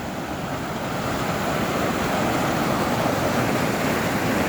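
Willow Creek, swollen with snowmelt, rushes past a boulder field in the Colorado wilderness as a dense, steady broadband roar, loud and continuous with no voices.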